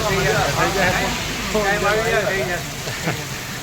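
Steady rain hisses loudly throughout while people talk over it.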